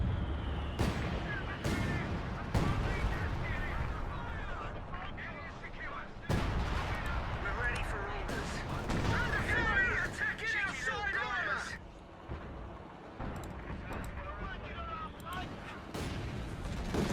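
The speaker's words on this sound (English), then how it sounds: "those shots just continue to go off as a counter battery" Artillery counter-battery fire in a Company of Heroes 2 match rumbles on as repeated deep booms and crackling shots over a busy battle din, with a voice talking over it throughout.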